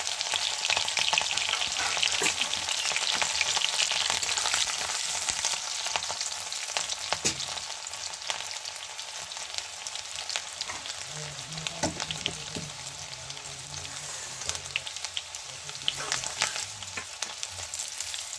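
Chopped garlic, ginger and chili fry in hot oil for a vegetable curry, giving a steady, bright sizzle that crackles and hisses throughout, with occasional stirring clinks and no one talking.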